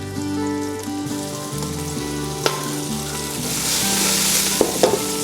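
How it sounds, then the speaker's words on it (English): Chopped onion fries in a pan until soft for a chicken ginger soup, producing a loud, steady, close sizzle with a few sharp stirring clicks against the pan and no talking. "Continue cooking the onion until it's soft."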